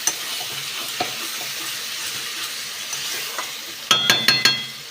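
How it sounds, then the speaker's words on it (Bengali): Boiled rice and dal being stirred together in a pan for vegetable khichdi, a steady soft scraping with light sizzle, then a few sharp metallic clinks of the spoon against the pan near the end. "সেদ্ধ করা চালটা আর ডালটা আস্তে আস্তে দিয়ে দেবো। দিয়ে বন্ধুরা আবারও আমি এটাকে একসাথে খুব ভালো করে মিশিয়ে দেবো।"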